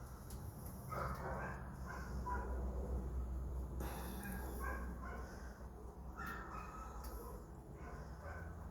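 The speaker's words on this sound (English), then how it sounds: "That is the neighbor's dog." A neighbour's dog left outside all day, barking and yipping in short, repeated bursts at moderate distance over steady background noise.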